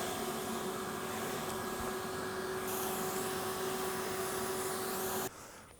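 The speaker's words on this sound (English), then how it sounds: "I'm going to put a handkerchief over the end of my vacuum cleaner nozzle" Vacuum cleaner running with a handkerchief over the nozzle, a steady close whine with a strong constant tone that cuts off abruptly near the end and leaves a faint fading hum.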